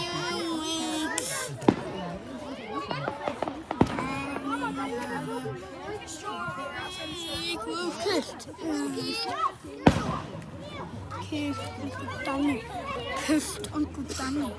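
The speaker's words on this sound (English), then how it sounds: "Fireworks." Fourth of July fireworks popping and banging at intervals, with a few sharp louder bursts, under steady chatter and excited children's voices nearby.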